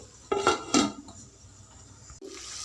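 A metal lid set onto a pan of ivy gourd masala curry gives two close clattering knocks, then a quiet pause and a faint later clink.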